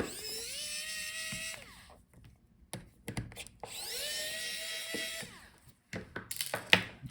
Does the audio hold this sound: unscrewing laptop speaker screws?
yes